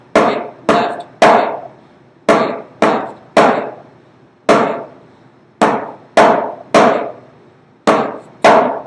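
Sharp, loud single strokes on a snare drum in a steady counted exercise pattern, grouped in threes and pairs with short gaps, each hit ringing briefly before decaying.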